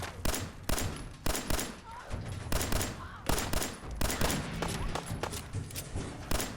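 Gunfire in the post-apocalyptic game Fallout 4, a series of sharp shots and short volleys at a steady irregular rhythm, loud and close, with someone talking between them.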